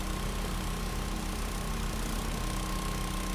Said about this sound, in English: Hey, listen to that. Like a little Honda engine in there.